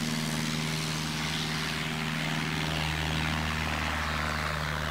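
STOL light propeller aircraft taking off at a fly-in airshow demonstration, a steady loud engine and propeller drone with a constant tonal hum, nearby and unbroken.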